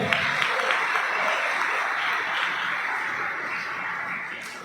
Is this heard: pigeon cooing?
no